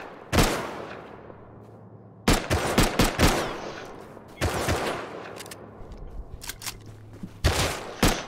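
Gunfire in the survival game Rust, with loud, close bursts of rapid shots separated by short pauses and echoing decays. A few faint scattered clicks sit between the bursts.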